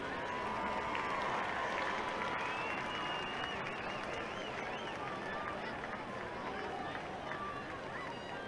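A large crowd at a 4A championship football game between Kinkaid and Episcopal applauds and cheers steadily for the Knights, a dense, continuous wash of clapping and shouting heard from within the stands.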